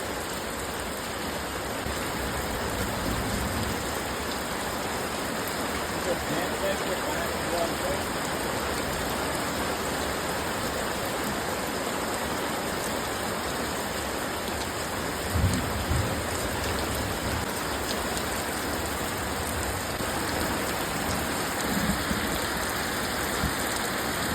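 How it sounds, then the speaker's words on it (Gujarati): Steady rain pours over a village in Botad, a dense continuous hiss of drops hitting surfaces throughout, with a low rumble of distant thunder around the middle; no one speaks. "વરસાદ આવ્યો છે"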